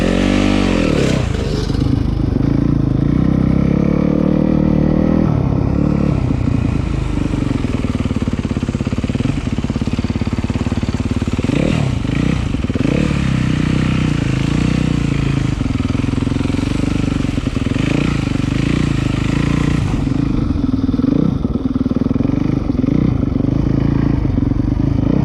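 Dirt bike engines revving and roaring without a break at close range, loud throughout, with rising and falling pitch as the riders work the throttle and some clattering and scraping mixed in.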